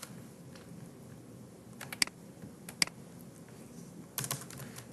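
Computer keys pressed in short bursts for copy and paste shortcuts while working in mapping software, giving soft clicks spread through a quiet room, with a few sharp, louder clacks near the middle and a quick flurry toward the end.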